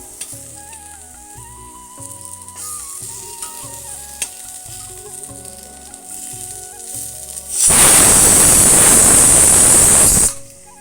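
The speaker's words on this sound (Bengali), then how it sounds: "পুরো শুকনো শুকনো করে ভাজবো কুমড়োটা" Pumpkin frying dry in a pan, starting with a quiet stir under background music, then a sudden loud, dense sizzle from about 7.5 to 10.5 seconds before cutting off.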